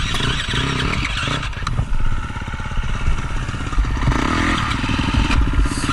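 An enduro dirt bike engine idles and revs roughly on a hot, dusty hard enduro trail near a log, with loud, steady engine chugging and clattering throughout, rising in a few bursts.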